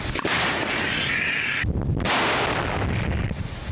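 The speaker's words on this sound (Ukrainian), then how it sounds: "Гармата!" A sharp, heavy blast from a firing artillery cannon, followed by a rushing roar and a second concussive boom, loud and near.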